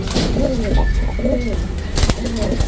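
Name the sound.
racing pigeons cooing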